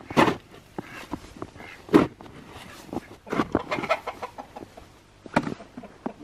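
Chickens cluck close by in irregular bursts, with a few louder squawks scattered among softer murmuring calls.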